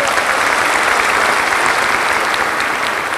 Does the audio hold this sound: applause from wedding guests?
yes